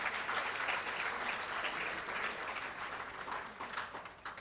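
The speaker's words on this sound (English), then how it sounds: "Let us give a round of applause to our students." Sustained applause from an awards-ceremony audience honoring students, a dense steady wash of many hands clapping at moderate loudness throughout, with no voices rising above it.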